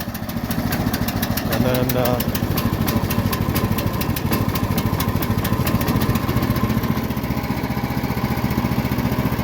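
A Mechmaxx SM-32 small engine, a Honda-clone, runs after a choked first pull. It chugs close and steady in a fast, even putter throughout, with brief talk over it.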